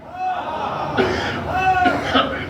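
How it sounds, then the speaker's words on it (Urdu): A man coughs a few times in a reverberant hall during a Muharram majlis sermon, the bursts short and fairly close, with some vocal sound around them. "یہ کھانسی آ رہی ہے"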